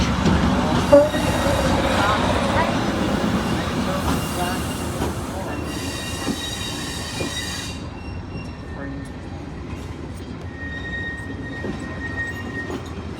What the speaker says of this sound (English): here is the Class 73 that was replacing the 58 arriving into Swanage